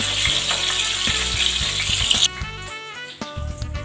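Stuffed eggplant with ham and cheese sizzles steadily in a frying pan for about two seconds, then the frying drops away and a tonal background takes over, with brief sizzle returning near the end.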